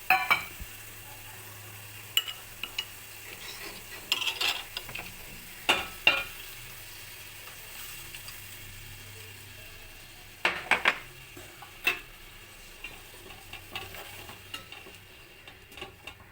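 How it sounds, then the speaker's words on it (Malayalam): Roasted-coconut chicken curry gravy simmering in a pan, a soft steady bubbling and sizzle with occasional stirring clinks and scrapes, close and moderately quiet, no voices. "ചാറ് ഇത്തിരി ഒന്ന് തിളക്കട്ടെ."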